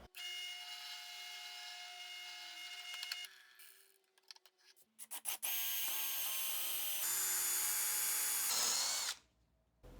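A power drill whirs in sharp bursts, starting and stopping, then bites into wood with a loud grinding whine before cutting off.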